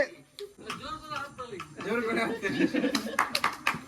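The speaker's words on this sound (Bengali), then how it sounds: "একদম চলো হাততালি" A small group claps hands at a family Kartik Puja gathering in a home. A few scattered claps come toward the end, mixed with nearby talking, chuckles and laughter.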